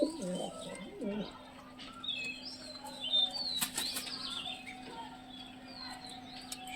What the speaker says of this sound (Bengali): এটা খুব ছটপটে পায়রা।